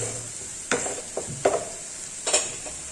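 Onion, tomatoes, cumin seeds and green chili sauté in a pan with a steady sizzle, broken by a few scrapes and stirs of a utensil.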